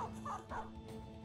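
A war dog in the Battle Brothers video game gives a few short barks and yips, closely spaced over a steady low game background, with no speech.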